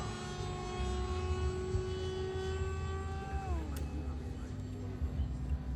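An electric RC model airplane drones steadily overhead, its harmonic whine dropping in pitch as it passes, with a constant low rumble beneath.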